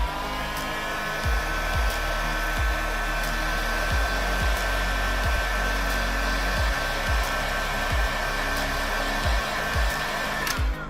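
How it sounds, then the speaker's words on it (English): A heat gun blows a steady, loud stream of hot air to soften the adhesive on an iPhone 13 Pro during a screen repair. The whirring hum holds constant close up and is heard alone. "I blow some heat from my heat gun on this side, and that warms it up and it makes the adhesive"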